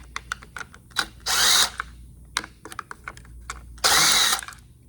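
Two bursts of a power driver spinning with a 5/16 socket, loosening the carburetor cover screws on a handheld leaf blower, each about half a second, close up, separated by small clicks and handling taps.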